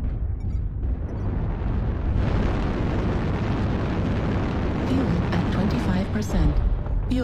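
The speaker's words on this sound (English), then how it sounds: "Artillery strike online." Artillery strike explosions in a video game form a dense, sustained roar of booming blasts that swell after the first couple of seconds, loud and close, with faint voices mixed in.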